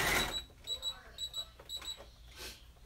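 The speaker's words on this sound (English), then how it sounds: "Get ready for the beeps" A sewing machine gives a series of short, high electronic beeps, about ten in quick pairs, close and clear over a quiet room with faint rustling.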